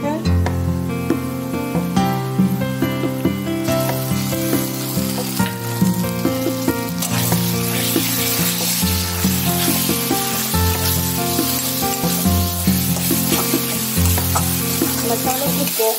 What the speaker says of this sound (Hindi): मसालों को बहुत ही अच्छे से फ्राई करना है